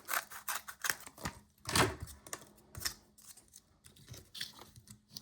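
Scissors cutting cardboard for a handmade Spinosaurus action figure: irregular crunchy snips and rasps, close and fairly clear, with gaps between cuts.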